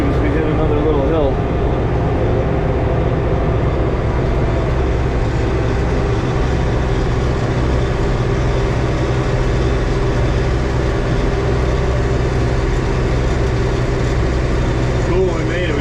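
A backhoe loader's diesel engine drones loud and continuous as it climbs a curvy mountain road, a steady heavy rumble with rattling, while someone talks over it.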